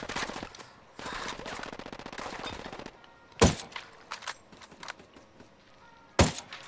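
Rapid automatic gunfire bursts from the shooter game Ghost Recon Wildlands, loud and close, followed by sharp single shots and scattered impacts between quieter gaps.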